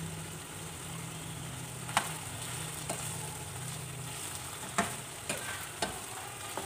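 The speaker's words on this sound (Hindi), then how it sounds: "अब इसको थोड़ी देर मज़ीद भून लेंगे।" Liver (kaleji) with chilli and kasuri methi fries in a pan with a steady, moderate sizzle and a few sharp clinks of a spoon against the pan.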